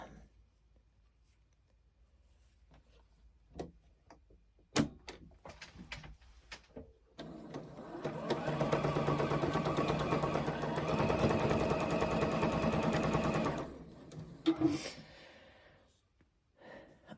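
A sewing machine runs steadily for several seconds, stitching quilt patches for a retreat swap quilt, preceded by scattered clicks and handling noises and followed by a few more taps, close and moderately quiet.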